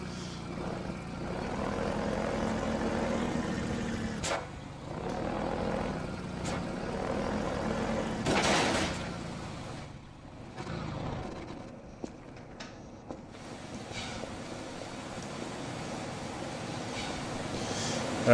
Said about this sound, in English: let's just go ahead and take our hoverboat right on down, since it seems to be okay on land too